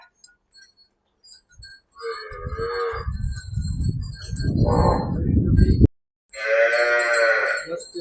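Cattle at a cow shelter near a temple moo loudly and close by, two long lowing calls separated by a brief pause, with faint clinking in the background.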